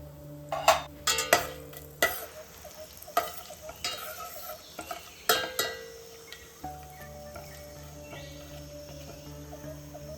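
Cashews, bay leaf and shahjeera dropped into hot oil for a Bheemavaram-style biryani, a steady close sizzle broken by sharp clinks and scrapes of a spoon against the pot.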